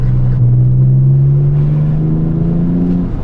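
A Porsche 996 GT2 with its old-school turbocharged engine pulls hard under acceleration, a loud, close, steady roar whose pitch climbs smoothly through the rev range without a break, no voices over it.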